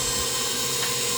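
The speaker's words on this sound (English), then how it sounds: "I had mixed this a total of 4 minutes once all the ingredients were in at speed 2 on my KitchenAid" A KitchenAid stand mixer beating white velvet butter cake batter at speed 2, a steady, close mechanical whir and hum that stays constant throughout without voices.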